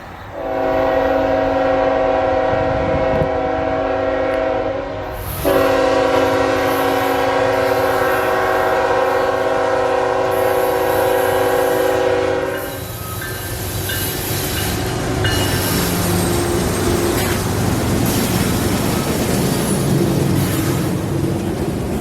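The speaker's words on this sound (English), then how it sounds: "N319 is a loaded coal train out of the mine in Evansville, Indiana, to cross South Carolina." Loaded coal train on a rail line, its horn sounding in long, loud chords, briefly broken after a few seconds, then the heavy rumble and clatter of passing cars continuing close by with no talk.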